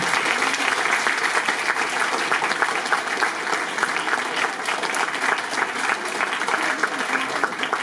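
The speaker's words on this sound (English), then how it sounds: "Please, a big round of applause for all those who have organized the MUN for you," A large audience applauds at a Model United Nations closing ceremony in Nice, dense, loud and sustained clapping from many hands that fills the whole stretch without letup.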